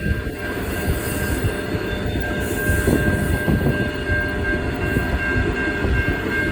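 A train's air compressor, on a 2.3 km iron ore train, produces a dense, rumbling mechanical drone that runs continuously, loud and close, with a faint steady whine riding above it.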